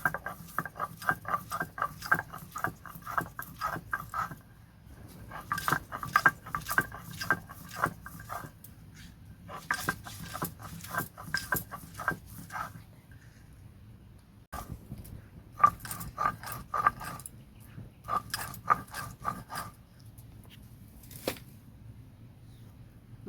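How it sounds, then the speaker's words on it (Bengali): Ginger, garlic and chili are ground together for a Bengali village-style jackfruit seed and potato dish, producing repeated bursts of rhythmic scraping and knocking strokes separated by brief pauses. "আদা রসুন লঙ্কা একই সাথে বেটে নেব।"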